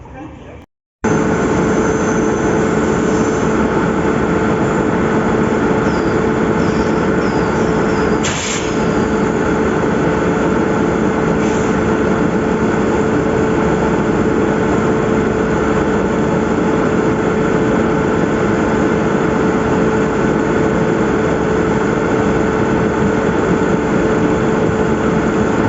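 An Indian Railways train passing at Thrissur station, a loud, sustained rumble and engine drone that starts abruptly and holds steady for the whole stretch, with a brief clank partway through and no talk over it.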